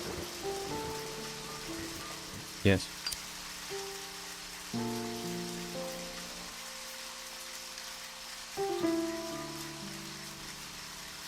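Steady rain falls in the video game Deadly Premonition, a continuous soft hiss under tonal in-game music. A brief word of speech comes in partway through.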